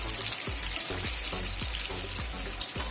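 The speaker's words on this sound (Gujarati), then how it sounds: "તેલમાં જેટલો પણ નાસ્તો આપણો આવી જાય તેટલો આપણે એડ કરીશું" Bottle gourd snack pieces deep-fry in hot oil with a steady, dense sizzle and crackle and soft popping bubbles, alone without any voices.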